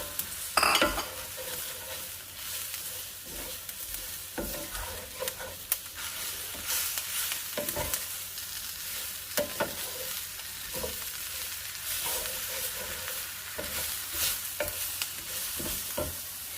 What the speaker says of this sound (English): Going in with the peppers.